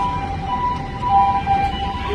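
Ambulance siren on a busy Tokyo street, a steady wailing tone held through the whole stretch over loud traffic and city noise, moderately distant.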